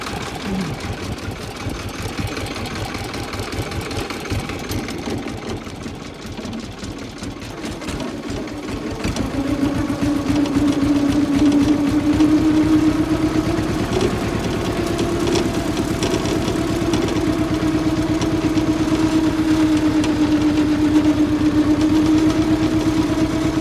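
A mini tractor fitted with a disc hiller runs steadily nearby. Its engine gives a loud, continuous rattling drone that rises in pitch and strength about halfway through and then holds, and no one speaks over it.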